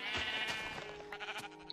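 A Minecraft sheep gives a single short, nasal bleat, clear and up close, with no talking over it.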